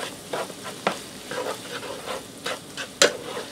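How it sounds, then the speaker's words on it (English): A ground beef casserole with black pepper is mixed in a pan on the stove, irregular scraping and clattering stirs over a low sizzle, close by. "I'm going to go ahead and mix this together."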